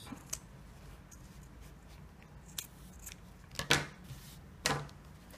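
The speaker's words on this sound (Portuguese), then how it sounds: "E vou cortar. E passo a tesoura" Scissors snipping through fabric while sewing a bias-trimmed tissue holder, a few sharp close cuts standing out over a quiet room, with two louder snips near the end.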